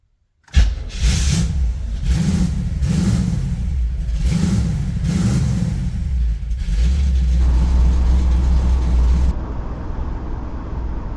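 A car heard from inside while driving, recorded through a 4K dash cam: a steady low engine and road rumble with some rises like gentle acceleration, continuous and fairly loud, with no talk.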